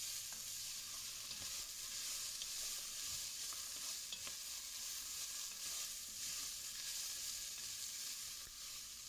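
Lamb with allspice and other spices stirred in a hot pan, a steady continuous sizzle with faint scraping from the stirring, close and unbroken throughout.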